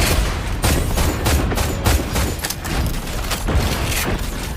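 Rapid bursts of gunfire in the mecha battle royale game Super Mecha Champions, a dense, loud stream of sharp shots with booming hits, continuous and unbroken by speech.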